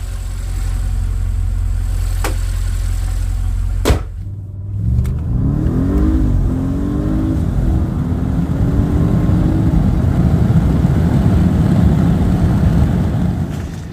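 An Audi S8 engine fitted with a double intake revs up after a sharp click, the rising engine note climbing and holding steady, loud and close, with no talking.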